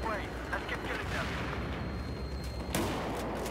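Shotgun blasts in the video game Battlefield 4 ring out amid constant battlefield rumble and distant gunfire, with one sharp louder shot near the end.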